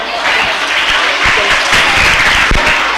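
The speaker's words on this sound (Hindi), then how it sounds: "चलिए इनके लिए तालियां तो बजाइए" Audience at an academy awards ceremony for a Seerat competition claps loudly, a close, dense burst of applause with a few sharper individual claps and faint crowd murmur underneath.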